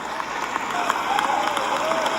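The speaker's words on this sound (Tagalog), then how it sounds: "Yan ang first standing ovation po sa issue ng West Philippine Sea." An audience rises in a standing ovation at a political address on the West Philippine Sea, filling the space with a steady wash of clapping and crowd noise while someone talks on top.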